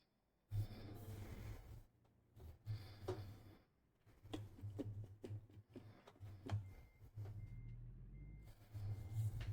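A semi truck reverses to hook up to a trailer, with a series of reversing beeps over a low diesel engine rumble, fairly loud and steady with brief pauses.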